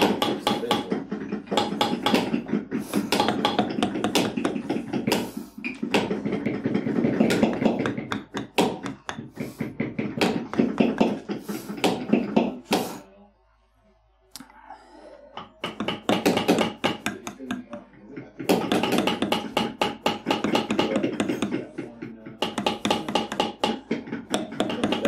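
Leather carving class with a beveling tool hammered on leather: dense, rapid tapping and thunking from several workers at once, a steady clatter broken by a brief lull midway.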